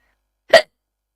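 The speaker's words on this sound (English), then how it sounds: "I have a hiccup." A single short hiccup from a woman sounds close and clear, alone against silence.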